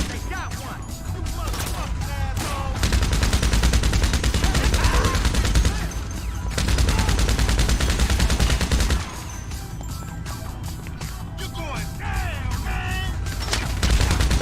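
Minigun firing in a Grand Theft Auto-style video game, long sustained roaring bursts of rapid fire with short breaks between them, dense and loud throughout, with occasional voices in the background.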